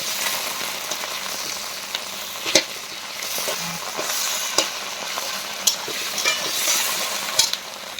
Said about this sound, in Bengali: মাছের মুড়ো আর ডিমগুলা একটু ভাঙা করে ভেজে নেব